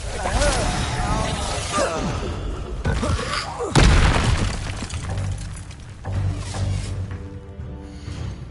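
Expelliarmus spell effects in Hogwarts Legacy, a run of loud bursts, booms and shattering cracks with whooshes in between, one heavy impact standing out midway.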